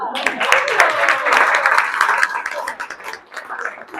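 Audience applause at a business workshop, a burst of scattered clapping from a modest room of participants that swells and then thins out, mixed with some murmuring voices.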